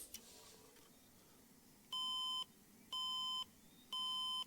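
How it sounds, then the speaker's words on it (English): Three evenly spaced electronic beeps, each about half a second long with a steady tone, from a PC failing at startup outdoors in the snow, over faint background noise. "Just the miserable beeping."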